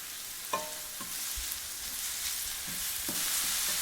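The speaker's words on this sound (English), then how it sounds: "now comes the fun part of just sauteing it and getting it slightly soft" Chopped red onion sizzles steadily in a pan, a soft continuous hiss of frying broken by a few light clicks of stirring, fairly quiet and with no talking.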